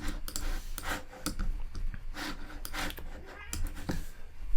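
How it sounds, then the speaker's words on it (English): A cat meows several times in short, high cries over a rustling background, fairly close but not loud. "Sorry if you can hear my cat in the background."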